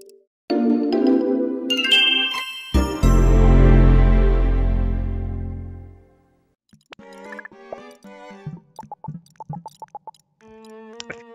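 Short synthesized chimes from a Wii beta menu when a color is changed: a few bright tonal notes, then a long swelling low tone fading out, followed by a flurry of quick, light blips.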